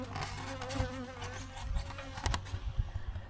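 Honeybees buzzing around a hive being wrapped and insulated for winter, a close continuous droning hum with scattered louder buzzes and small taps.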